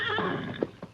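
The great horse Silver gives a short whinny, a few bright neighing bursts up close with brief pulses near the end, no talk over it.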